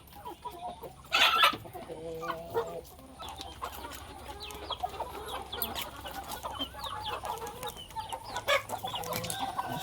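Hens clucking and murmuring close by while being fed paddy grain in a farmyard, with a steady chorus of soft calls and a few louder squawks breaking out now and then.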